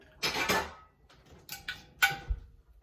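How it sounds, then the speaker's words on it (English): A pan is pulled out from among other dishes in a home kitchen, making a few close clinks and clatters of metal and crockery in short separate bursts with quiet gaps between them. "I'm gonna get the pan."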